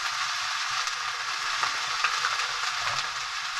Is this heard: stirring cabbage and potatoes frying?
yes